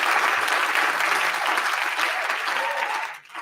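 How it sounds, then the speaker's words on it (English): A dense burst of hand clapping and cheering for Manchester United's Alejandro Garnacho rings out loud and steady, then thins and fades near the end. "Let's clap hands for Garnacho"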